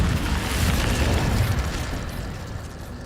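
The Incendio fire spell in Hogwarts Legacy goes off as a loud, rumbling burst of flame that swells and then slowly fades into a lower roar.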